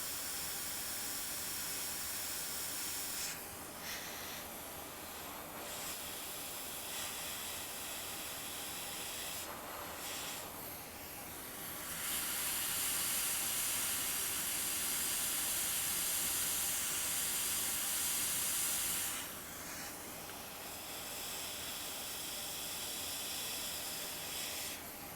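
A hot air rework blower fitted with a smaller nozzle, used while repairing a MacBook, gives off a steady close airy hiss that swells louder midway and then eases back, with no voices.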